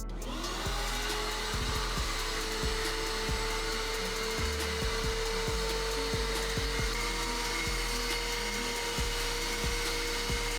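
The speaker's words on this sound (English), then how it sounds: "We're going to be drilling these 6 holes in the hood pin" Power drill boring six holes through a fiberglass hood on a Nissan 240SX S13 for hood pins, a steady loud motor whine running throughout with rhythmic thumps and bursts as the bit bites, no talk.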